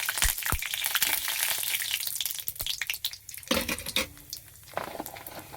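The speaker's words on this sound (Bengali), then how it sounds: "কালো জিরে একটু দেবো ফোড়নে।" Black cumin seeds sizzle and crackle as they temper in hot oil in a home kitchen, a continuous frying hiss broken by a few sharp pops and stirring sounds.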